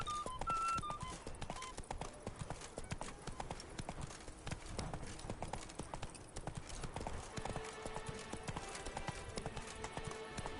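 In a PS4 video game, Roach the horse's hooves clip-clop in a quick, steady galloping rhythm, close and continuous, with game music and effects layered underneath.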